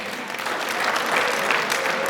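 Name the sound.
audience applause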